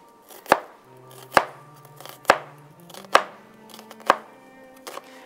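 A knife chops through half of a giant onion on a cutting board, six crisp evenly spaced thuds about a second apart, close and clear, with a low hum underneath.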